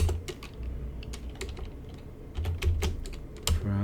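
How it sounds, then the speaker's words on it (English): Rapid, uneven keystrokes on a computer keyboard as code is typed, close and fairly loud, with clusters of sharper clacks and brief pauses, no talking. "So we continue to type the code here."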